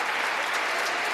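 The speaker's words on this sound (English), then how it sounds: "You can applaud that." Packed chamber applause in the House of Representatives, a dense, continuous roar of many hands clapping without a break.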